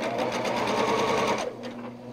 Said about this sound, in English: let me sew this up real quick